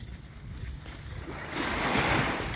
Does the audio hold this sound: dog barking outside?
no